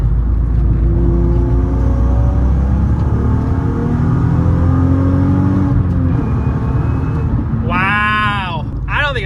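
A Nissan Skyline R32 engine revs hard under acceleration, a loud steady drone with rising harmonics that climbs toward high RPM before easing off, close up inside the car, ending with a brief whistling whine.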